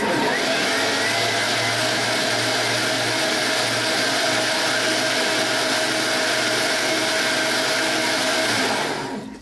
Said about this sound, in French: Vous mixez pour pouvoir mixer les pots à 10 et pendant 10 secondes à peu près.